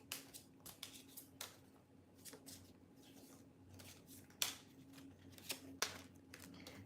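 Tarot cards shuffle by hand in a quiet room, a series of soft, brief riffling and flicking bursts at irregular intervals over a low steady hum.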